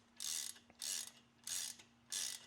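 A hand ratchet loosens a part on a car's brake assembly, clicking in four distinct bursts of rapid pawl ticks separated by short pauses, close and clear over a faint steady hum.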